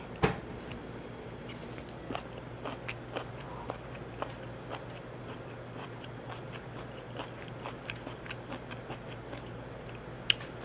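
Someone eating braised kimchi with pork back ribs and onion, with soft, irregular chewing and biting clicks repeating close to the mic over a steady low room hum, no talking.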